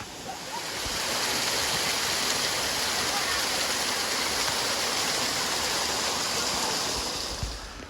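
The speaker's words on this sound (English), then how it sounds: "this is the hot springs going right into the river" Hot spring water pours steadily down into a river in Costa Rica, a continuous broad rushing and splashing that holds near and loud throughout with no talk.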